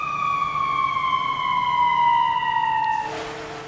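An emergency vehicle siren wails in a single long descending tone, moderately loud and steady, then cuts off abruptly near the end, leaving faint low background rumble.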